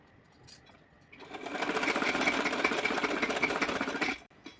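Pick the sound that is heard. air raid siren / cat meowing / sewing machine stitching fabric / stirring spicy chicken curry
sewing machine stitching fabric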